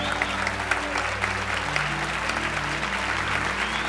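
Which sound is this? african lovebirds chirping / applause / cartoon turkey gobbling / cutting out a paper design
applause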